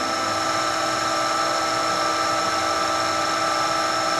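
An OOYA radial arm drill press spindle runs steadily at high speed, a loud, constant mechanical whine with sharp tonal harmonics and no talking.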